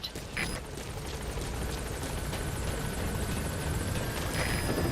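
A helicopter comes in toward a landing zone in Metal Gear Solid V: The Phantom Pain, its rotor and engine making a steady, loud, continuous roar with no talk over it.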